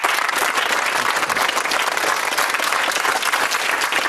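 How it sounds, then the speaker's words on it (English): A TV game show studio audience gives a round of applause for two contestants, loud, thick clapping sustained evenly from start to finish with no talk over it. "big round of applause for Sarah and Philip"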